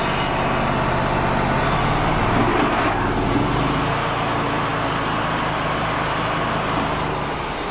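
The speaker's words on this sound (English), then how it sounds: "Let's see if the mill will turn on." A portable sawmill engine runs steadily with a new drive belt adding a loud, rough whirring whine, the combined mechanical noise continuous and close.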